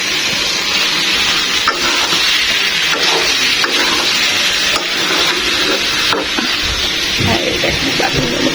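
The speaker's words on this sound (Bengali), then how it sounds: "বলক চলে পড়ে যেতেছে, দেখেন" A pot of rice boils over on a stove, giving a continuous steamy hiss and bubbling with occasional soft clicks and spatters, steady and fairly loud throughout.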